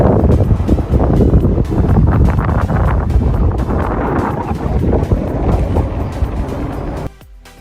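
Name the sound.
strong cold wind at a San Francisco bridge viewpoint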